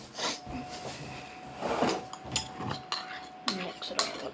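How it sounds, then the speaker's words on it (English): A spoon stirs and scrapes through a snack mixture in a bowl, with irregular clinks and scraping knocks close by, interrupted by brief pauses. "I'm just gonna mix it all up a little."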